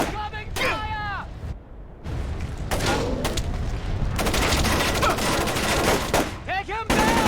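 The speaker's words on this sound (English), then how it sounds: "Incoming fire!" Heavy gunfire in a stealth-action game, dense sustained bursts of automatic fire and booms crackling over several seconds, with shouted voices breaking in at the start and end.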